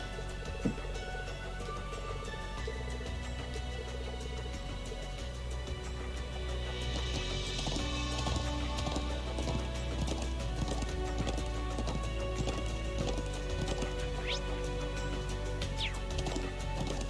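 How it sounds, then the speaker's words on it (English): Horse hooves clip-clop steadily in the RPG Trails of Cold Steel II, a continuous rhythmic trot near the listener over background game music, with a faint whinny. "Little horse."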